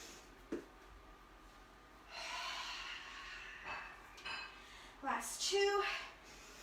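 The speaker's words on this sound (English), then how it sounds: "Inhale and exhale." Strong, forceful breaths drawn in and pushed out during a yoga-style workout, several audible inhale and exhale bursts with a sharp snort-like exhalation, close to the microphone over quiet background.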